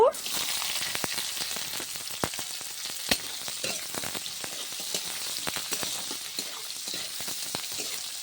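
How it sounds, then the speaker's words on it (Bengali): Chopped onions frying in hot oil with whole cinnamon, cardamom, cloves and dried red chillies for paneer butter masala: a dense, close, continuous sizzle broken by many sharp crackles and pops. "তেলে দিয়ে দেবো এক বাটি কুচিয়ে রেখেছি পেঁয়াজ দিয়ে দেব"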